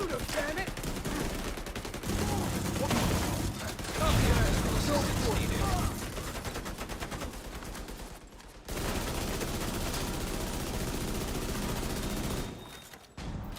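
Automatic gunfire from the video game The Division 2 rattles in loud, dense, rapid bursts for most of the stretch, pausing briefly about two-thirds through before resuming and then dropping out near the end.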